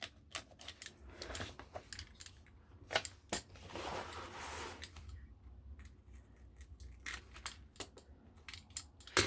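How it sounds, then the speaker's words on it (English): Scissors cut through the mesh of a book binding up close, giving a quiet series of irregular snips and crisp clicks, with a short stretch of rustling in the middle. "separate it and then just cut the mesh"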